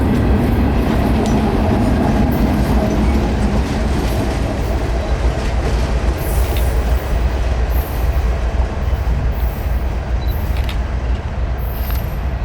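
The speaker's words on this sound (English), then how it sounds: "this train had an end-of-train distributed power locomotive, this one being CSX number 3243, a GE ES44 AC" A CSX freight train led by a GE ES44AC locomotive rolls past, with loud, continuous rumble and wheel clatter on the rails throughout and no voices.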